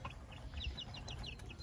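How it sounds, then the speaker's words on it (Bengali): A tiger breed chicken clucks in a quick, repeated series of soft, close calls, with no speech. "এই যে এটা হচ্ছে টাইগার মুরগি,"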